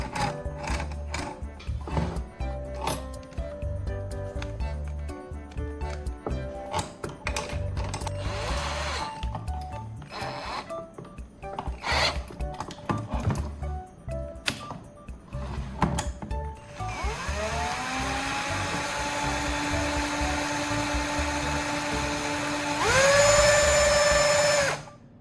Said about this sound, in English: I'll hook this part to the drill, and when I power it on, it'll do the twisting for me